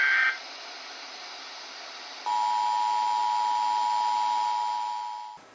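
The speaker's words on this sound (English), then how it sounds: "Those weird tones and noise that you hear from the NOAA weather station is actually digital data going into receivers" Digital data tones and hiss from a NOAA weather station received on a radio, a steady electronic whine that shifts pitch partway through over a constant noisy background, moderately loud and alone.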